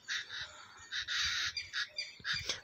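A crow caws repeatedly in short bursts near a peacock-fern plant, the calls fairly close and distinct against a quiet background with no talking.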